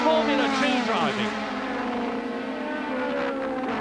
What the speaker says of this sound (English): Superlative Formula 2 driving.